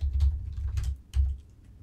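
A short run of computer keyboard typing, several soft close keystrokes in quick uneven succession, alone with no talk.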